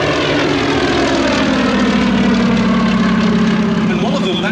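A Westland Lysander propeller aircraft flies at the Shuttleworth Fly Navy Airshow 2018, its engine a loud, continuous droning roar that holds steady throughout, with a voice speaking over it.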